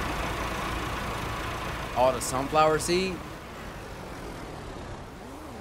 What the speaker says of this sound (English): I'm gonna grab the tractor